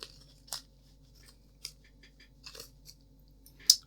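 Scissors snipping through black insulation tape, a handful of short, crisp cuts spaced irregularly over a quiet background, the last one sharpest.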